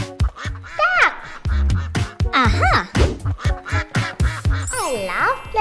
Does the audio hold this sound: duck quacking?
yes